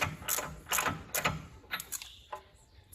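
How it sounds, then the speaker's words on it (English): A plug wrench ratchets on a spark plug of a cheap Polaris snowmobile, giving several close, sharp clicking bursts in an uneven rhythm, quieter toward the end. "I have a plug wrench handy."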